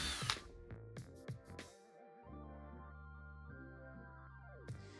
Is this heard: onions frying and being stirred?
no